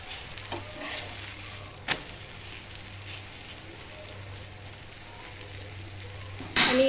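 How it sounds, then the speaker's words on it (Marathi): A thin pumpkin dhirde, a grated raw pumpkin pancake, frying in a pan with a soft, steady sizzle and crackle, broken by a couple of brief clanks and a louder scrape at the end. "दोन्ही पण साईडला आपल्याला मस्त खमंग भाजून घ्यायचं आहे"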